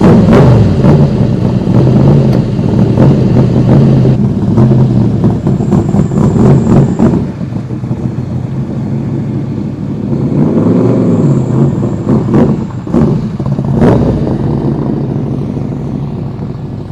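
A NASCAR-built Cobra car idles and drives off inside a shop, its deep rumbling engine loud and close before fading somewhat and then swelling again with rising revs.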